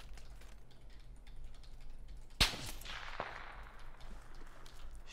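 A single sharp gunshot cracks out in a shooter game, followed by a fainter second shot, over a low, quiet background hum.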